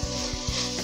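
Mint, coriander and ginger-garlic paste sautéing in a pan for coconut milk rice, a steady close sizzle with a few soft stirring bumps, brief and continuous.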